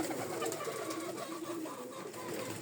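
Domestic pigeons kept alongside chickens coo softly and repeatedly close by, a low murmuring call rising and falling over a steady backyard background.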